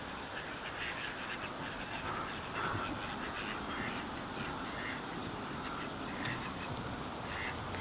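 Ducks quack near a pond with moorhens and pigeons on a fine spring day, the calls blending into a dense, steady outdoor wash that runs continuously without pause and with no talk.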